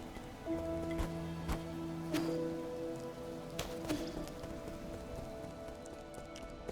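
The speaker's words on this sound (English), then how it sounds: "Oh, it's raining" Rain falls in a video game simulation, a steady patter of drops on hard surfaces with scattered sharper ticks and a few held tones in the background, even and moderately quiet throughout.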